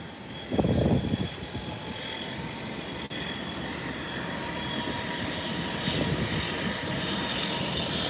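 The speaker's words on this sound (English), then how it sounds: "While Sunrise Airways is taxiing for departure." An airliner taxiing at an airport, heard as a steady, distant engine drone with a brief louder rumble near the start and constant background noise.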